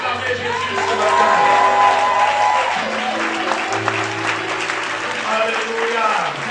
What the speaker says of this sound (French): Est-ce qu'on peut acclamer Jésus ce matin?